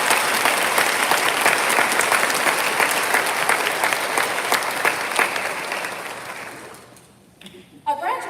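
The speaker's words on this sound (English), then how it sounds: "join me with a huge round of applause in recognizing our supporters and this remarkable group of educators." Graduation-ceremony applause for supporters and educators at JP Knapp, a loud crowd clapping that fades out after several seconds, followed by a speaking voice.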